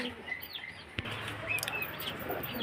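Pigeons at a pigeon-selling spot in Beldanga: soft chirps and light wing flutters sit over a low background hum, with one sharp click near the start.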